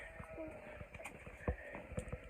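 Sheep bleat a few times in a busy, wet, muddy pen, with repeated thumps and scuffling noises around them and a steady background hum.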